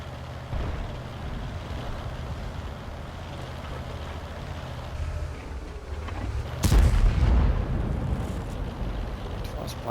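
A single heavy tank cannon shot in a tank combat video game booms out loud and near, rising sharply over a steady low engine rumble and then slowly rolling away.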